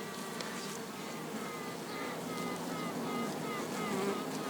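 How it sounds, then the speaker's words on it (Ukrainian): A dense, steady buzz of many bees in a hive fills the clip, with faint higher tonal notes of a queen bee piping through the swarm noise. "Матка співає. Заспівала матка."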